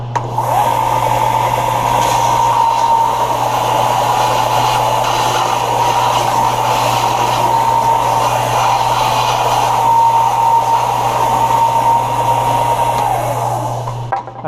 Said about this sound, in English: after you get it roughed out with the rasp, is just sand it down. Now, I just use a sander like this